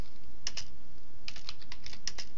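Typing on a computer keyboard while writing CSS styling code: a few quick, crisp key clicks in short bursts, close and clear, with no voices.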